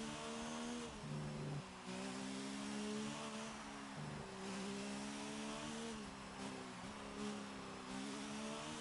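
Onboard F1 car engine from F1 2019 on a flying lap at Suzuka, Japan, a steady high-pitched whine that rises and dips with gear changes and brief lifts, continuous and close with no talk.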